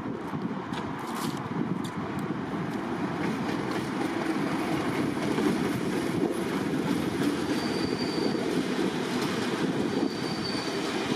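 Class 37 diesel locomotive 37423 leading a short passenger set into Norwich station from Great Yarmouth, a loud continuous rumble of engine and rolling wheels with rhythmic rail-joint clatter and faint squeals.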